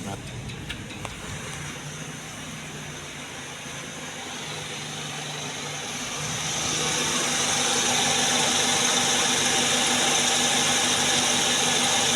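Car engine idling steadily at close range, a continuous hum and rattle that grows slightly louder and denser partway through, with a few faint clicks near the start.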